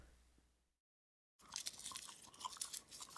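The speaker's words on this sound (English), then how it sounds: "Warning, this video contains loud chewing sounds." Loud, close chewing of cinnamon gum, with wet crunchy bites and smacking following a brief silence, heard alone with no talking.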